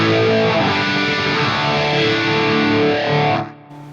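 An electric guitar through a Fractal AX8 processor, phaser and reverb on, delay off, rings out in sustained, swirling chords with a sweeping, washy effect and a lingering echo before fading off.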